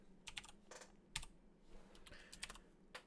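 Computer keyboard typing during a JavaScript game development stream, with quick irregular bursts of keystrokes close to the microphone and short pauses between them.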